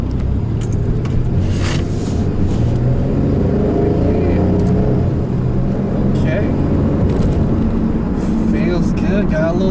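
A Pontiac Firebird with a V6 engine drives along, its engine a loud, steady low rumble that holds throughout with only slight swells as it gathers speed.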